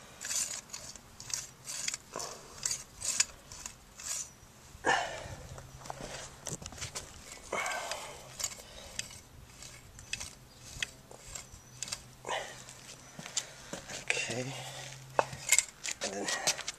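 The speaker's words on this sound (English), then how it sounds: "So when the motor's turning, you can see the pistons going in and out." An exposed Trane / American Standard refrigeration compressor turns over with its pistons moving in and out, making irregular, close metallic clanks, knocks and rattles at a fairly low level.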